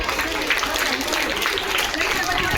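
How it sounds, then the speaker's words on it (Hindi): Audience applause at a school annual day prize distribution, a steady close wash of clapping that fills the whole stretch without pause. "तालियां जोरदार।"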